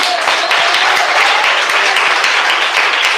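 Church congregation clapping together during a lively worship service, loud dense applause with a quick steady rhythm of hand claps filling the room throughout.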